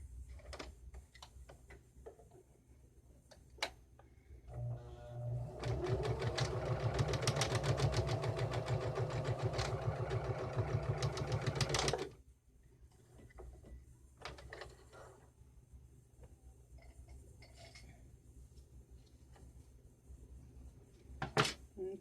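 A sewing machine stitching a fabric grocery bag holder runs in a rapid, even whir for about seven seconds, preceded and followed by quiet handling clicks and taps of fabric being adjusted.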